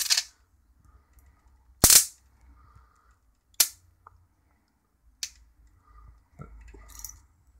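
Sharp cracking snaps of high-voltage arcing from a Mitsubishi CRT monitor's flyback, several loud isolated bursts spaced a second or two apart with quiet gaps, ending in a brief buzzing sizzle.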